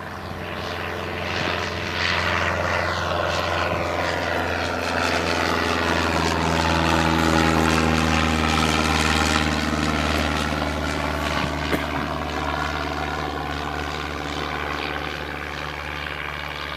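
A light propeller airplane takes off on a solo flight, its engine drone building steadily and holding strong throughout, with a rising, shifting tone as it accelerates and climbs away; no talking.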